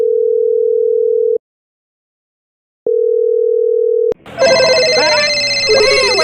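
A telephone rings with two long steady electronic tones separated by a pause, then a loud burst of cartoonish music and voices takes over.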